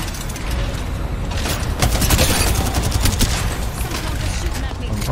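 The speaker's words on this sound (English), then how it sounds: "Someone's shooting at me." Dense, loud gunfire fills an Apex Legends match, with rapid overlapping shots and bursts continuing throughout.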